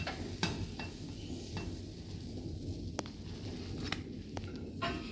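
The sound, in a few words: omelet cooking in a pan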